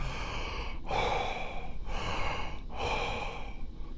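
Slow, deep breaths during a guided heart-light meditation, each long airy exhale clearly audible and close to the microphone, repeating three times with short pauses between.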